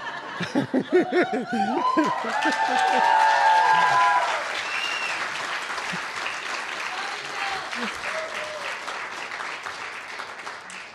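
Applause and cheering from an audience at a nurse pinning ceremony: clapping swells loudly, with some laughter and shouts early on, then settles into steadier, softer applause.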